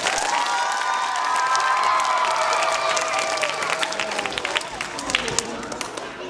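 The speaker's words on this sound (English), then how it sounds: "Let's give one more round of applause to the boys." Schoolchildren clapping and cheering at an elementary school assembly, a dense burst of applause with high-pitched shouts and whoops that slowly thins out, close and lively throughout.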